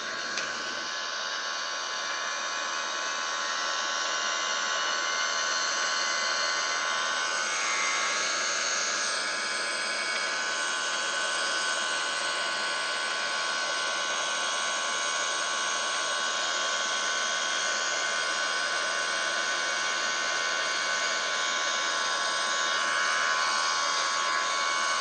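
Simulated engine thrust of an Airbus A330 in Microsoft Flight Simulator, a steady, loud jet whine and roar that holds for the whole stretch with little change.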